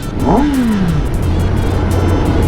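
A 2021 Kawasaki ZX10R motorcycle engine revs sharply upward, then falls back to a low, steady idle. The sound is loud and close, with no talking.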